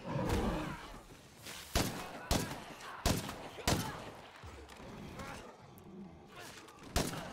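Video game gunfire in State of Decay 2: loud, sharp single shots go off every half second or so against a rumbling background, with a voice talking faintly underneath.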